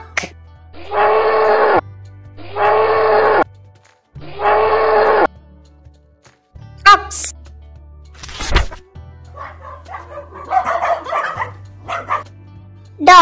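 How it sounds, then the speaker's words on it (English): A dog barks loudly and close in three evenly spaced barks, then gives shorter yips and whining, moaning calls over a low steady background tone. "Dog."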